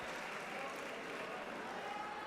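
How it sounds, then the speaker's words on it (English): Crowd applause at a men's individual épée fencing Grand Prix podium in Cali, a steady broadband wash of clapping that holds evenly throughout at moderate distance. "The crowd is clapping for JERENT."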